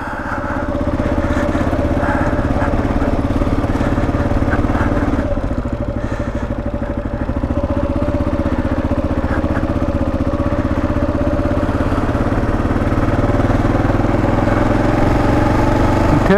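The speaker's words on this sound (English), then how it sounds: "bikes all together, the bike's running. She's running pretty darn good." A motorbike engine runs steadily on a test ride in the rain after chain and rear bearing work, a continuous close mid-pitched drone with faint clatter, sustained throughout with no talk.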